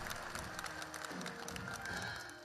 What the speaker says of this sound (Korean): 참가자들은 열렬한 박수갈채를 보냈습니다